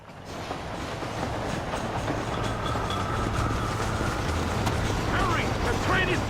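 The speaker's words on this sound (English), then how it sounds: "The train is getting away!" A moving train rumbles steadily on its rails with a continuous low, loud roar and faint clatter, while shouting voices carry over the noise throughout.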